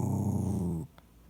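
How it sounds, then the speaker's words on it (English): A cat growls low and steadily up close for just under a second, then cuts off to near silence with one small tick. "he uses his growling as another intimidation technique"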